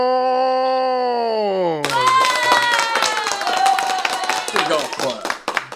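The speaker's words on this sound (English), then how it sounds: "let's give a round of applause" A few people clap for wrestler AJ Cazana in a small interview setting, a light scattered patter of hands close to the microphone. A sustained tone comes first and ends abruptly, and voices speak over the clapping.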